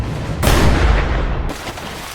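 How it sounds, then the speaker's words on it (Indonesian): A suitcase explodes in a film scene at a customs pier, a sudden loud burst that holds for about a second before easing into a lingering rumble, with no voices. "terlihat koper yang ia bawa pun meledak"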